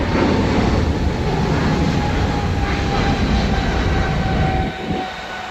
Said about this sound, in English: plane is going over, my dear friend.